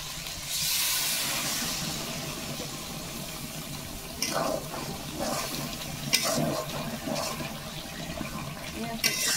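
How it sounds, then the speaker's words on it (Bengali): A little water splashes into a cooking pan where the food has started sticking to the bottom: a rushing pour near the start, then softer sizzling and stirring scrapes, close and moderate in level. "আমি এখন অল্প একটু জল দিয়ে দেবো।"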